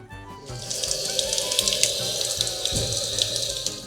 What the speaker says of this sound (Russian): Давайте проверим, работает ли вода в селе Кошарица.